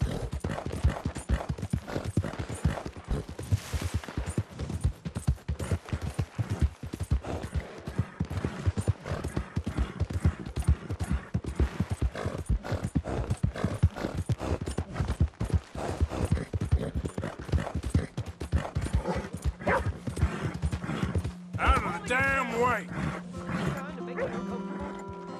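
Horse hooves in Red Dead Redemption, a brisk, continuous clip-clop of a ridden horse, with a voice speaking briefly near the end.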